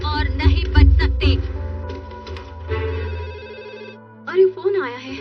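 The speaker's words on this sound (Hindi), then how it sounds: "अरे फोन आया है।" Cartoon telephone in a Hindi-dubbed Doraemon episode ringing in rapid repeated trills, loud and close, with character voices talking over and between the rings.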